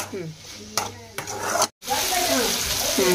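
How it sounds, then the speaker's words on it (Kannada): Mango pickle being stirred in a pan over a low flame, with a steady sizzle and a few louder scraping strokes, a brief break, then continuous frying and stirring up close. "ಈಗ ಮಿಕ್ಸ್ ಮಾಡಮ್ಮ ಸಣ್ಣ ಉರಿಡು ಮಿಕ್ಸ್ ಮಾಡಿ"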